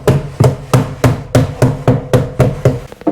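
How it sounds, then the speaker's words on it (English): A hammer taps a wide timber block to knock nails out during an IKEA PAX wardrobe modification, giving about nine sharp, evenly spaced knocks, close and loud, with no talking. "I'm going to use this bit of timber with the hammer so I don't crack through with the front of the hammer"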